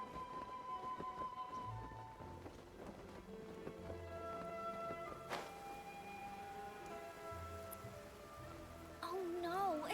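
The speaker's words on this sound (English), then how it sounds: "Oh no, it's raining." Steady rain falls across Inazuma in Genshin Impact, a soft continuous patter spread under melodic game music for the whole stretch, with a brief sharper swell partway through.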